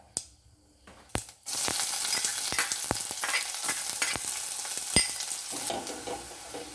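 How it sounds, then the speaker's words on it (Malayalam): Mustard seeds and chopped shallots hit hot coconut oil with a sudden burst of loud, steady sizzling after a few sharp pops and clicks, while sharper crackles and stirring scrapes punctuate the frying. "ഈ ചുവന്നുള്ളി കൂടി ഇട്ട് നമുക്ക് കടുക് വറുത്ത് എടുക്കാം."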